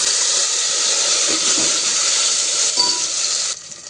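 Cumin seeds and spice masala sizzle loudly in hot oil with a steady, bright hiss that suddenly drops away near the end.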